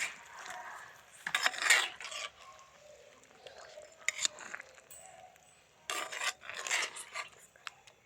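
Yogurt being stirred into a chicken marinade for Hyderabadi chicken fry, heard as soft, close rasping scrapes of a utensil against a bowl, coming in irregular bursts with quieter gaps.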